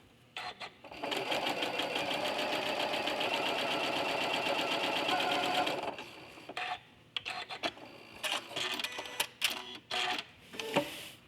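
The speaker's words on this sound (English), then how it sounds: "I'm going to sew through this next line and see how it does." A sewing machine stitching a line through quilt fabric, a loud, close, steady rapid whir and needle clatter for about five seconds, then stopping, followed by scattered clicks and fabric handling.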